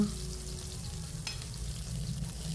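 Garlic, ginger and green chillies sizzle in a pan for paneer butter masala, a soft steady frying hiss with a brief clatter midway, no voices.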